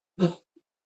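A single short cough from a person, close and fairly soft, followed by a faint brief catch of breath in a quiet room.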